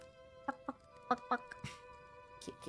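A voice imitating a ferret's soft dooking, a series of quick, gentle clucking chirps in an uneven rhythm, close and quiet over a faint steady tone.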